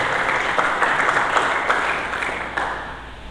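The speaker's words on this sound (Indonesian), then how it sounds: "Mari kita berikan tepuk tangan bagi Yesus Kristus Tuhan." A church congregation applauds for Jesus Christ during a Sunday service, a dense burst of many hands clapping together, moderately loud and fading slightly toward the end.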